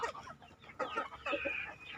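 Farmed chickens cluck in short, fairly close bursts, several overlapping calls over about two seconds with no talking.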